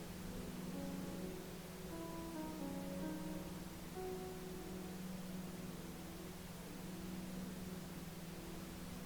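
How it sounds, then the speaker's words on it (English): Steady pink noise fills the air as a smooth, constant broadband hiss, joined by soft sustained ambient tones drifting in and out beneath it, with no breaks or voices. "The consistent, arrhythmic pattern of pink noise helps facilitate this ideal state of"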